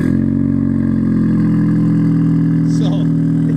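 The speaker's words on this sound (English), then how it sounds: "we're gonna hear cold start, because it's pretty cold" Honda Civic engine idling on a cold morning, a loud, steady low rumble close to the microphone with a faint mechanical clatter and little variation.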